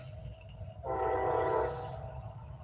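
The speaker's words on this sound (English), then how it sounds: "Got a good sounding horn. He's loud." A single loud train horn blast, chordlike and steady, sounds for about a second over a constant insect-like background buzz.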